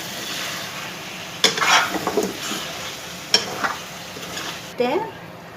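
Chickpea masala stirred in a pan, with a few distinct scraping strokes of a spoon against the pan over a faint background sizzle, otherwise quiet and close.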